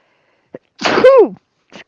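A single loud, close sneeze, a sharp intake and burst, with a faint sound just before and after.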